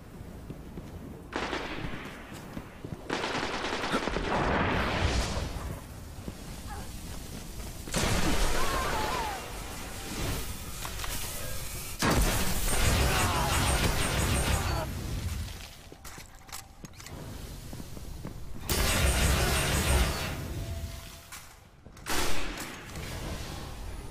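The Vex Mythoclast exotic fusion rifle fires in the Destiny video game, with repeated charged bursts and loud crackling blasts separated by brief pauses, mixed with game effects and occasional voice lines.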